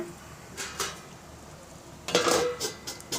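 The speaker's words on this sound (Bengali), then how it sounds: "আবার একটু নেড়ে দেব ঢাকনা দিয়ে ঢেকে দেব" Rui fish chorchori stirred in a pan with a few scrapes and knocks of a spoon against metal, then a louder clatter as a lid is set down and settled on the pan, close and without talk.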